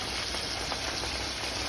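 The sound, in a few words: rohu fish deep frying in oil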